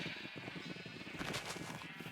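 Minecraft sheep in the FTB Interactions Remastered modpack bleat faintly over a dense, steady in-game background, a couple of short wavering calls.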